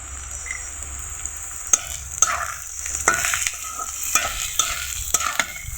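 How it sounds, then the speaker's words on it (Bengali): Steady sizzling of chopped onion and green chili frying in a pan, with scattered scrapes and knocks as it is stirred; no voices. "পেঁয়াজ কুচি ও কাঁচা মরিচকে এভাবে হালকা ভেজে নিব"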